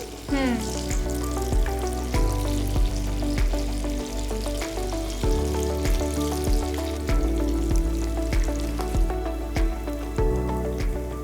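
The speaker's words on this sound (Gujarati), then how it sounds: "હવે હું ફ્રાય કરું છું. આપણા તેલ મીડિયમ ફ્લેમ ઉપર છે." Spicy churros frying in oil over a medium flame, a steady close crackling sizzle with soft bubbling pops throughout, while someone speaks over it.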